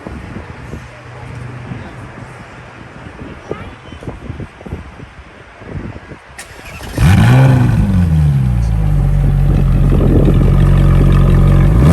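A Ferrari parked at a car meet cranks and fires up after some nearby talk and outdoor noise, then settles into a loud, steady idle after a sharp initial rev.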